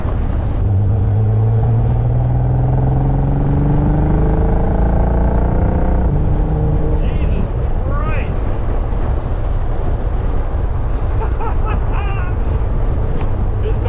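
A VW Thing fitted with a GT35 turbo accelerating hard, a loud engine rumble with rising tones that climbs for several seconds and then gives way to wind and road roar, with a voice talking over it.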